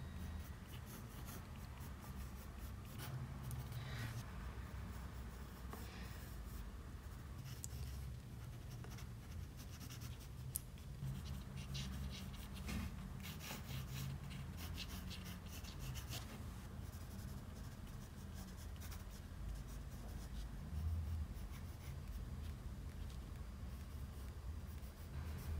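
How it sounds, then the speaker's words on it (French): Pencil strokes drawn across paper while sketching crystal details, a steady soft scratching and rubbing that runs close and continuous throughout, with no voices. "on a juste à faire des petits traits comme ça"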